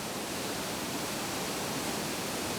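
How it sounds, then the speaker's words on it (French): A waterfall pours behind a curtain of water in a cascade carved out from the inside. It makes a steady, even, broadband roar with no other sounds and no talking. "Une cascade creusée de l'intérieur qui permet d'apprécier le paysage à travers un voile d'eau."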